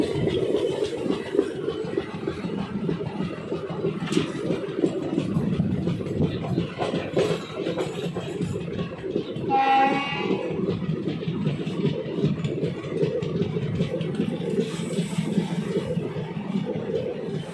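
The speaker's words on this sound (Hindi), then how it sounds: "Train is arriving at Karnal railway station." The Delhi–Fazilka Intercity Express rumbles steadily into Karnal railway station with a low engine drone throughout, with a brief higher-pitched tonal squeal or horn-like burst around the middle.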